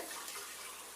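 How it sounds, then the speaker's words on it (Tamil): Half a tumbler of water pouring steadily into a pan of melting jaggery for sweet pongal, a continuous hissing stream, soft and close, with no other sounds. "ஒரு அரை டம்ளர் தண்ணி ஊற்றணும்"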